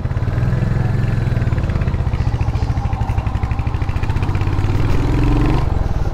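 A Royal Enfield Hunter 350 motorcycle pulls away on a test ride, its single-cylinder thump loud and close, rising in pitch as it accelerates through the gears with a steady pulsing beat.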